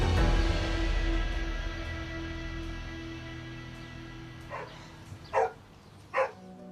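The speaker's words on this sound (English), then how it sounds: "No one appears to be home, except an angry-sounding dog." A dog barks from inside a house during an eviction visit by enforcement agents. Three sharp, separate barks come after a stretch of low background rumble, and they sound muffled and fairly loud.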